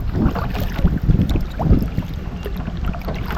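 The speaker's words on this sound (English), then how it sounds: "Well, the wind is blowing pretty hard." Strong wind buffets the microphone on a creek at Cold Springs, Econfina Creek, during downstream paddling, a steady gusty roar with low rumbling surges throughout and no talking.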